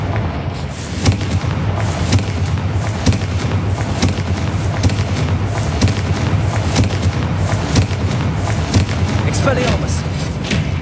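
Confringo blasting spell explosions in Hogwarts Legacy, heard as a steady run of evenly spaced booming thumps over dense battle noise, loud and close, with a voice speaking at times.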